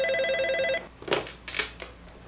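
An old-style telephone bell rings in a single steady trill that cuts off, followed by a few soft clicks and handling noises, with no speech.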